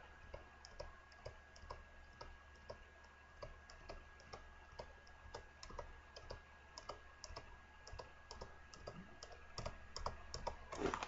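Rapid light clicking from a computer mouse during 3D modelling work, with irregular single and double clicks spread steadily throughout, fairly close and faint against a quiet background hum.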